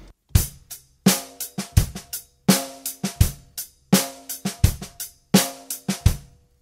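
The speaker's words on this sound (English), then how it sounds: "a pattern with ghost notes would sound like this" Basic drum kit groove with quiet ghost notes on the snare between the backbeats on 2 and 4, played alone in a steady repeating pattern of loud hits and soft in-between strokes.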